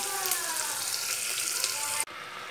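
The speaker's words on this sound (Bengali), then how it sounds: "এবার এটাকে ভালো করে একটু ভেজে নিই" Ginger, garlic, onion and bay leaf sizzle steadily in hot oil as the base for khichuri, a loud, continuous frying hiss that cuts off abruptly near the end.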